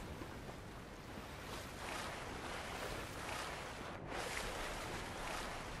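Ocean surf in the Fortnite video game washes steadily, a broad continuous rush of waves with gentle swells, fairly quiet and unbroken by speech.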